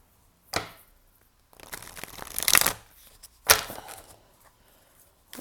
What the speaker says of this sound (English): Give them a riffle shuffle.